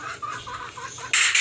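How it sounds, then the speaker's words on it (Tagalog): Chickens cluck noisily up close in a quick run of short calls, followed by a brighter, louder squawk at the end. "Grabe, ingay ng manok sa amin guys."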